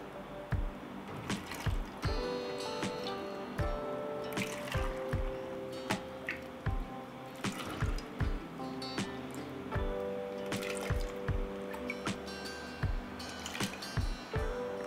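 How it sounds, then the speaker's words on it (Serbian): Boiling-hot sugar water poured into glass jars, a steady liquid stream with repeated soft dripping and splashing taps over about fifteen seconds, close and moderately loud, with no voices. "Voda sa šećerom je proključala i tako vrelu ću sipati u tegle."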